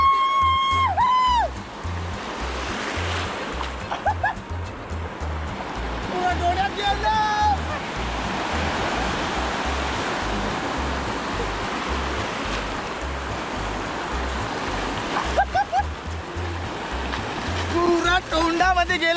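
Steady, rushing surf washes onto a beach in a broad, unbroken roar, with faint voices or whistle-like calls rising over it now and then.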